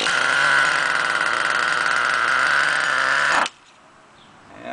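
Truck engine in cold weather runs with a steady, loud idle drone close by, then cuts off abruptly after about three and a half seconds, leaving near silence before a faint rising sound.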